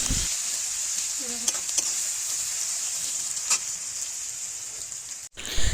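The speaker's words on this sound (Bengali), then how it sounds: "তো পেঁয়াজটা এখন ভালো করে লাল লাল করে ভেজে নেব।" Onions frying in a pan toward a reddish brown, a continuous bright hiss of hot oil with faint stirring scrapes, close up, ending in a brief clatter, with no one talking.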